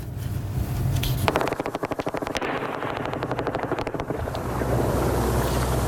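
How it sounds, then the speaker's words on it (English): Rapid bursts of heavy gunfire crackle in fast repeated volleys, with explosions, against a rumbling, windy background, fairly distant and muffled; a front-line battle at night against the last ISIS enclave. "You can see and hear the explosions that light up the night sky and hear that heavy gunfire."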